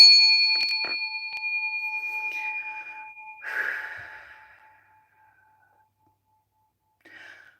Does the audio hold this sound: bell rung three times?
yes